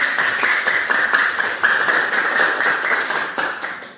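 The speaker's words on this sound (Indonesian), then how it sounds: "Tepuk tangan untuk kelompok." A classroom of students claps for a group, a steady rapid patter of many hands at close range lasting several seconds before tapering off.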